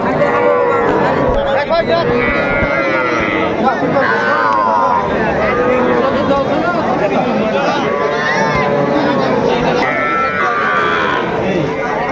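At the Aftabganj cattle market, small bulls and heifer calves low and moo amid a dense, loud crowd of traders' chatter, with continuous bustle throughout.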